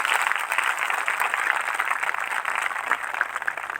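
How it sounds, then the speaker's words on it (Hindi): A congregation at a church gathering claps for the Lord, with dense, steady applause of even loudness from start to finish. "एक जोरदार ताली प्रभु के लिए"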